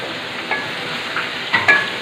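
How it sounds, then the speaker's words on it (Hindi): Chicken frying in a pan for a yakhni chicken pulao, a steady soft sizzle running throughout with a few faint clinks and stirs, no talking. "ये हमने चिकन डाल दिया है, इसे गोल्डन ब्राउन होने तक इसे हमने फ्राई करना है।"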